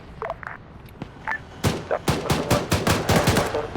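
Gunfire from a BTR armored vehicle and RPK machine guns in a video game: a few scattered shots, then a rapid run of loud, sharp bursts in quick rhythmic succession.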